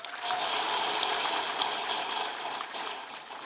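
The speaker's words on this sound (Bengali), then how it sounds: "এই ঐতিহাসিক ঘটনা যারা নায়িকা, তাদের জন্য একটা জোরে হাততালি দিই" An audience claps together after a speech about a historic uprising in Bangladesh, a dense, steady wash of applause that swells and then slowly thins out.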